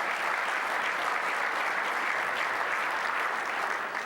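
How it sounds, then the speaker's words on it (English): An audience at a 2010 athletics Hall of Fame ceremony breaks into steady, dense applause, many hands clapping together loudly and continuously with no talking over it. "Give them a round of applause."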